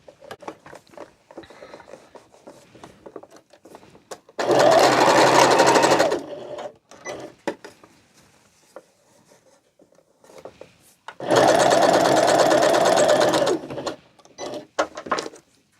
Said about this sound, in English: So let's go ahead and stitch.